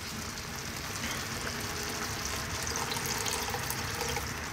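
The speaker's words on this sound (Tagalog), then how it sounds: "Tapos po, magdadagdag ako ng konting tubig." A little water is poured into a pan of Bicol Express, making a soft, continuous trickle and hiss that stays fairly faint and steady throughout, with no voices.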